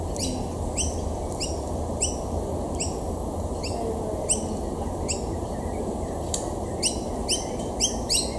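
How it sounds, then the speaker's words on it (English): A juvenile noisy miner chirps insistently to be fed in a wetland reserve, repeated sharp high calls at a steady rhythm over a constant buzzing background of bees and insects. "That constant chirping you can hear in the background is actually a noisy miner juvenile wanting to be fed by his parents"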